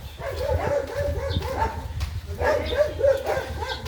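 A dog barks repeatedly in short bursts, fairly close, with a couple of clusters of barks separated by a brief pause over outdoor background noise.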